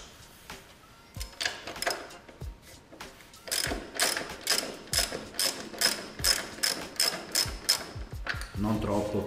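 A ratcheting wrench tightens a nut on a motorcycle during a transmission change, giving a long series of sharp, regular clicks in quick bursts, close and clear, with faint talk near the end.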